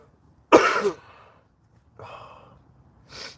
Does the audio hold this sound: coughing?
yes